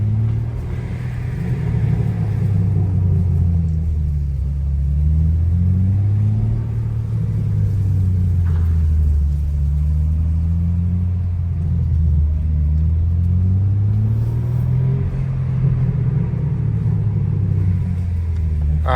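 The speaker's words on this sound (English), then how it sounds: "I know y'all hear the burbles, bruh. I'm gonna do a lap so y'all can hear." BMW M4 driving at night, its engine and exhaust giving a steady, loud low rumble that swells and dips in slow waves as it cruises, with a faint crackle of burbles over the drone and no talk.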